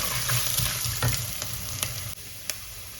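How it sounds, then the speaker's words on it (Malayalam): Ginger, onion, green chili and curry leaves fry in a pan for a Tamil Nadu-style potato masala, giving a steady close sizzle with stirring scrapes throughout, alone without talk. "ഇഞ്ചി നന്നായി ഒന്ന് വഴണ്ട ശേഷം വലിയ ഉള്ളിയും പച്ചമുളകും കരിവേപ്പിൻ്റെ ഇലയും വഴറ്റിയത് ഇടുക."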